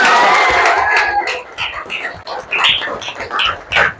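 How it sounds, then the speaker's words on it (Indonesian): A school class cheers, claps and shouts together in a short, loud burst that breaks into scattered whoops and fading claps. "Oke, tepuk tangan."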